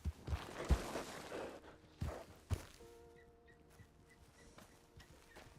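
Horse hooves in a video game set in a western town, a few irregular heavy thuds and clops near the start and mid-clip, then quieter ambience with faint tonal chimes.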